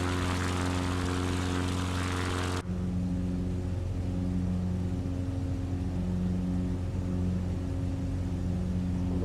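Steady, droning propeller engine of a CubCrafters XCub airplane in flight near Whistler, B.C., loud and continuous from the cockpit with an unbroken hum throughout.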